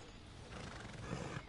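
A Kentucky Saddler horse in the Red Dead Redemption 2 video game gives a brief, fairly faint, breathy neigh or snort that swells toward the end over a steady noisy background.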